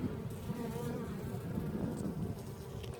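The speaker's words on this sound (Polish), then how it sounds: "widać, pszczoły sobie tutaj z pyłeczkiem paradują" A dense, continuous buzz of many honeybees at a hive entrance close by, a droning hum with no pauses.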